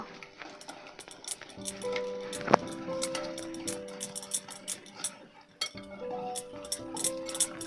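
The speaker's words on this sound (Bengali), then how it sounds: "এবার দইয়ের যে ব্যাটারটা তৈরি করেছে ওর মধ্যে দিয়ে দেবো। এবার ভালো করে মিশিয়ে নেব।" Curry leaf tempering is stirred into a yogurt batter for a quick breakfast dish, with a spoon clinking and ticking against the bowl in irregular bursts and rhythmic strokes.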